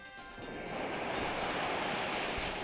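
A loud, rushing gust of wind swells up and holds as a sustained roaring whoosh, with no voices, from a wind attack move in a video game.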